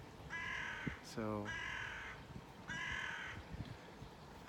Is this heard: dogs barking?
no